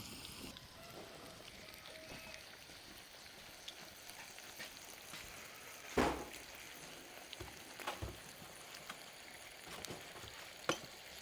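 Bacon frying in a pan while cooking out in the country, a soft continuous sizzle with a few sharper pops and crackles, fairly faint and steady, no talking.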